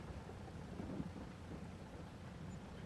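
Steady rain in the Farming Simulator 22 game, falling on the Silverrun Forest map with occasional low thunder rumbles, a continuous broadband wash at constant loudness with no talking.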